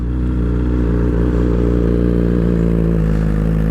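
A full-carbon Suzuki Hayabusa with a built 1600cc Carpenter Racing engine runs right up close, a loud, steady, deep rumbling idle with a fast mechanical clatter, holding even throughout.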